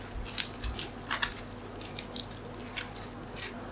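Aluminium foil is squeezed and folded around the rim of a bowl for steaming rice, giving soft, close crinkles and crackles in a few short bursts over a quiet background.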